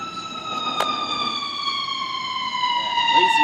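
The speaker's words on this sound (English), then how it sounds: "that is what we call an ambulance" An ambulance siren passes by outdoors, its steady wailing tone holding strong and gradually shifting, with a sharp knock briefly heard and the sound growing slightly louder toward the end.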